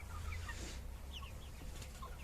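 Chickens clucking and scuffling as hens and roosters fight in a backyard coop, several short squawks scattered over a steady low hum, moderately close and continuous.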